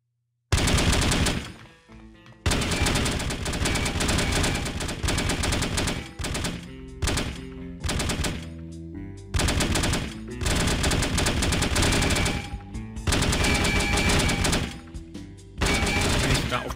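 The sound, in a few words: gunfire in video game No One Lives Forever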